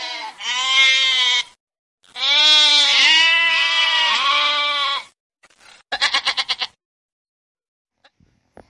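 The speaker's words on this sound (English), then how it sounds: "G for goat" A goat bleats loudly and close, giving two long wavering bleats and then a shorter, choppier one, with silence between them and no speech, in a children's phonics song.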